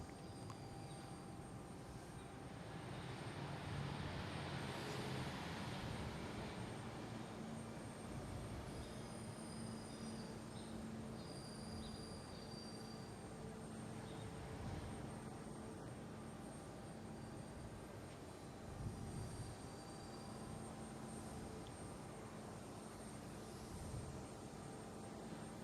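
A Southwest Boeing 737-800 arriving at Boston Logan airport, a faint, steady distant jet engine roar and hiss that swells slightly and holds for the whole stretch, with no voices.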